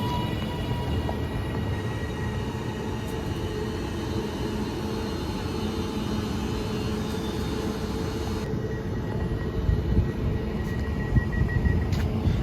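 A Class 331 electric train pulling away from the platform at Adlington station, a steady loud rumble and whine of traction under a continuous rolling roar, with rail noise building slightly toward the end.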